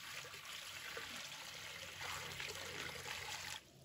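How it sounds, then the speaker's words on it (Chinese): Water pours steadily into a cooking pot on a home kitchen stove, a continuous close splashing trickle that runs for several seconds before easing off near the end. "锅中倒入清水"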